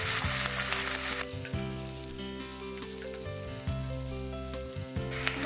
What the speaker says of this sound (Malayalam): നമുക്കതിലേക്ക് നമ്മുടെ ഇഞ്ചി അതുപോലെ തന്നെ വെളുത്തുള്ളിയും കൂടി ഇട്ട് കൊടുക്കാം